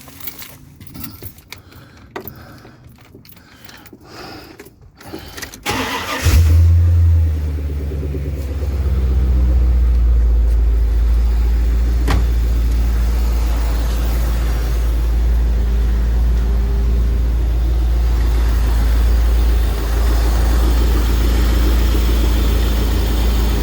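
A car, just put back together after repairs, starts after some keys jangling and clicking, then its engine catches and settles into a steady, loud, low rumbling idle running for many seconds.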